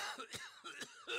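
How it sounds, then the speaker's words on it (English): A video game character in Snow Plowing Simulator, sick and without cough syrup, coughs in a quick run of three or four harsh, faint bursts with no speech. "if we didn't take the cough syrup, we would continuously be coughing"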